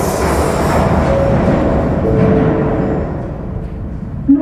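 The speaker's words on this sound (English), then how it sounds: "Alright, now the train is departing for Morden." A London Underground Northern Line train pulls away toward Morden, a steady loud roar of wheels and motors that slowly fades, with a faint squeal and a brief knock at the end.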